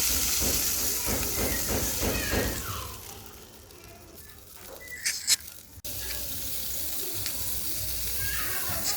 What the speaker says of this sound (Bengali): বলক চলে আসছে